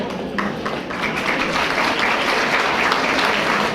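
A banquet audience at a historical museum's annual dinner gives a big, dense round of applause for a jarocho music group, the steady clapping sustained and loud throughout.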